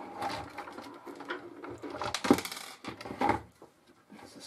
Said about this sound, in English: that's the screws falling out.